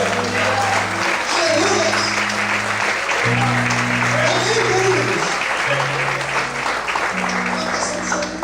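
A church congregation applauds in a sustained, even wash of clapping during an evening service while a preacher speaks and music plays underneath.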